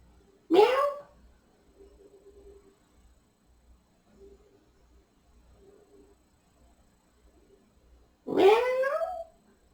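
A voice imitates a cat, giving two loud drawn-out meows several seconds apart, with faint murmuring in between.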